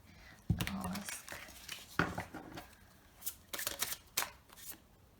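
Tarot cards riffled and drawn from a deck in a pick-a-card reading, producing close papery shuffles and sharp snaps in irregular bursts, with quieter rustling between them.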